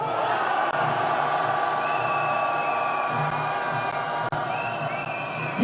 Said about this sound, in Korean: 함께 윤석열 탄핵의 함성 외쳐봤으면 합니다